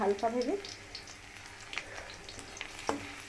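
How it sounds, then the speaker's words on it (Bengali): Chopped garlic fries gently in a kadai over a low flame, producing a faint, soft sizzle. A brief voice is heard at the start, and a few light stirring taps follow. "এই যে রসুন কুচানোগুলো নিয়েছিলাম, ওগুলো আগে দিয়ে দিলাম কড়াতে। এটাকে হালকাভাবে একটুখানি ভেজে নেব।"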